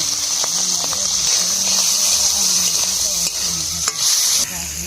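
Cut prawns frying in hot oil in a kadai, a loud steady sizzle with occasional stirring knocks and scrapes throughout.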